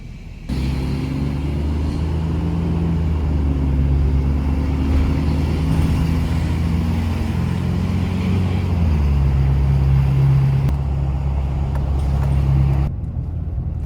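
Steady road noise of a car driving near Brownsville, Texas, a close, continuous low engine and tyre rumble with slight shifts in pitch as it moves along, with no talking.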